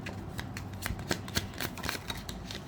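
Tarot cards being shuffled during a reading, a quick run of crisp riffling flutters and soft slaps with no voices, moderately close.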